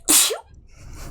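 A single sharp human sneeze bursts out close and loud, followed by a brief breathy tail and quiet background noise.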